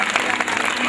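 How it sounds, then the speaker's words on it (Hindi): Audience applause for volunteers at a Mata Ki Chowki devotional gathering, a dense, steady patter of many hands clapping throughout the brief moment, fairly close and full. "एक बार जोरदार तालियां इन"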